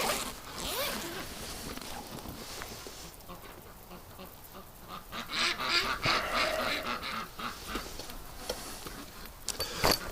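Waking ducks in a winter setting give scattered, fairly faint quacks that grow busier midway, mixed with rustling handling noise close to the recorder.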